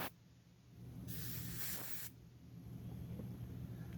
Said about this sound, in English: We'll have to spray that out with compressed air.